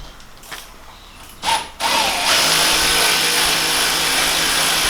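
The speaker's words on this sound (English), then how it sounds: "Spring compressor." A power tool runs on a spring compressor during a Superior Engineering lift kit install with King springs on an NP300 Navara, a steady loud whirring drone after a short quiet start and a brief burst.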